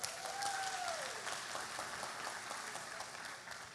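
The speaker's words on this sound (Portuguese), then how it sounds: "vamos aplaudir a Simone" A live audience applauds in a hall, a sustained wash of many hands clapping at moderate distance, with a brief cheer or whistle near the start.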